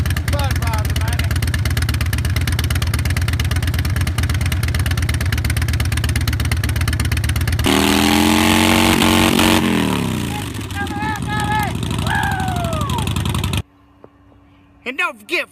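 A Harley-Davidson motorcycle engine idles with a steady, loping rumble that fills most of the clip, then shifts and cuts off near the end; someone talks loudly over it.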